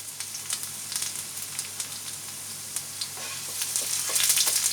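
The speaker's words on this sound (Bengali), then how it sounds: "প্রথমে রসুন কুচিটা দিয়ে দেবো।" Chopped garlic frying in oil for chilli paneer, a steady close sizzle with scattered crackling pops that grow busier toward the end, no voices.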